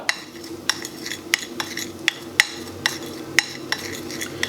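A spoon stirs a homemade rust remover mixture with a spoonful of oil, giving a rhythmic run of sharp clinks against the container roughly every half second over a low rustling background, close and without talk.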